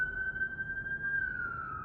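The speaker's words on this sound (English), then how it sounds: "I don't know how long that siren's going to go for" A steady, high siren wails outside, holding a single sustained tone that drifts slightly downward, heard alone over low background rumble with no talk.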